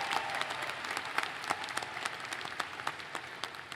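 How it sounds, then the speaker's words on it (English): A commencement ceremony crowd applauds steadily, dense clapping from many hands filling the whole stretch without any voices on top. "A round of applause."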